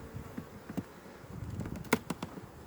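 Honeybees buzz around an opened hive during a spring inspection, a faint, close hum with individual bees passing near, set against low handling noise.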